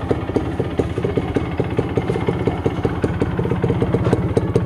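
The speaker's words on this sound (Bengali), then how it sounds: "এই যে এক কিকে বাইক এখন স্টার্ট হয়ে যায়।" A Honda H100S motorcycle's engine idles steadily and close, with a fast, even mechanical putter and faint clatter running throughout and no voices.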